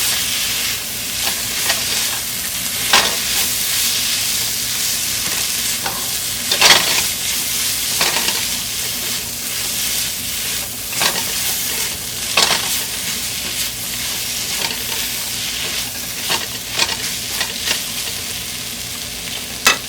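Chicken sandwich filling stirred in a hot pan with chicken powder added, a spatula scraping and turning through steady sizzling, with periodic louder strokes against the pan over continuous frying hiss.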